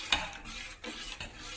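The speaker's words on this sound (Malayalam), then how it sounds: "നല്ലോണം ഇളക്കി കൊടുക്കാം കേട്ടോ." A spoon scraping and clinking against a bowl while stirring a coriander-leaf juice mixture for kappa panipuri, a few soft, irregular strokes, close and quiet.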